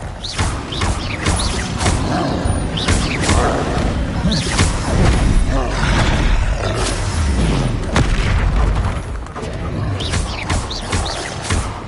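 Confringo explosive spells blast in the Hogwarts Legacy video game, a dense run of loud booms and thuds from combat with overlapping impacts and clatter.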